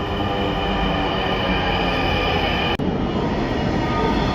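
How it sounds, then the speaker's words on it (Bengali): Loud, steady rumble of a metro train pulling in nearby, with wheel squeal and a brief sharp click partway through; no talking. "এই যে চলে আসছে আমাদের ট্রেন"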